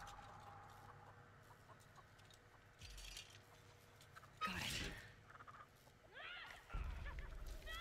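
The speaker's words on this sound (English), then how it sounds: "Yo, they have the fucking chicken perk." A chicken clucks in The Texas Chainsaw Massacre video game, with a few short, sharp squawks rising over quiet game ambience and some background talk.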